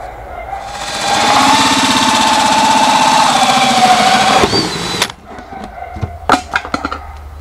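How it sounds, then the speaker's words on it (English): A hole saw running in reverse bores through plastic downpipe, giving a loud, steady mid-pitched drone for several seconds before it stops, followed by scattered clicks and knocks as the cut piece is handled. "Now I'm going to run this hole saw backwards because it's through plastic."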